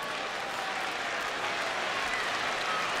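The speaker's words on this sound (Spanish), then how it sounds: "La gente aplaudiendo a Michaels." Wrestling arena crowd at Survivor Series 2002 claps and cheers in a dense, continuous wash, loud and steady throughout with no clear voices standing out.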